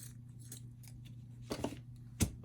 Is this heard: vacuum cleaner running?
no